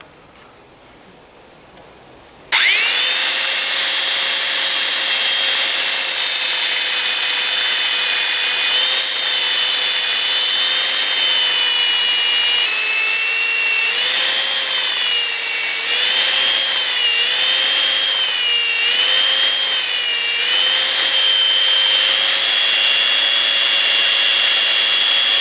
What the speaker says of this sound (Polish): Kształt tego klina, który w przekroju ma być półokrągły, dużo łatwiej będzie mi zrobić na szlifierce taśmowej.